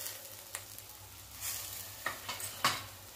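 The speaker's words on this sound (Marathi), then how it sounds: "तेल सुटेपर्यंत आपल्याला हे वाटण भाजून घ्यायचं आहे" Ground masala paste being stirred and roasted in oil for a besan roll curry, giving a soft, low sizzle with scraping spoon strokes and a few sharper clinks against the pan, fairly quiet and close.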